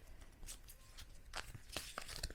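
Tarot cards being shuffled at length, soft papery riffles and crisp card snaps, close and faint, with no voices.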